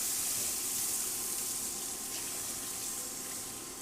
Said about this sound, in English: And then I'm going to do a quick rinse.